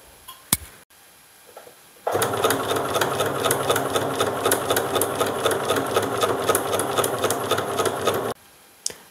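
A sewing machine runs steadily for about six seconds, stitching all the way around a trouser pocket, with a loud, close, rapid mechanical chatter that stops abruptly and is followed by a short quiet pause.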